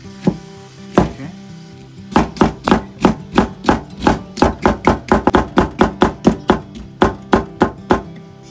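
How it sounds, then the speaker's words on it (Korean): Sharp knife chopping paprika into long, even strips on a cutting board, for stir-fried pepper japchae; two separate cuts, then a quick, steady run of crisp, close knocks with no talking. "방금 전에 썰었던 애호박이랑 비슷한 크기로 길쭉하게 썰어볼게요"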